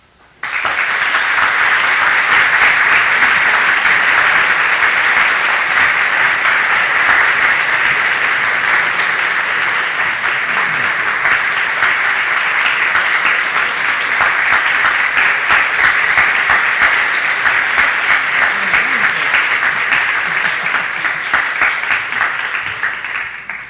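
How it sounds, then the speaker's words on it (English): Sustained, loud applause from a lecture audience at UCLA, a thick wash of many hands clapping that continues evenly for over twenty seconds with no voices, then tapers slightly at the end. "I think I need add nothing to that applause as an indication of our indebtedness to Professor Niestadt"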